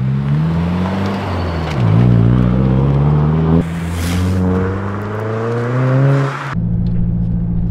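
A Subaru WRX fitted with a Perrin pitch stop is heard from inside while driving. The engine drone rises and falls through several gear changes, with a louder rev midway and a sudden drop in pitch near the end.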